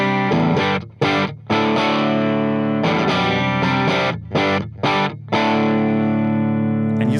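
An electric guitar plays through a Hughes & Kettner AmpMan Classic amp on channel A with its built-in boost switched off, using single-coil pickups. Sustained, ringing chords are heard alone, with a few brief breaks between strums.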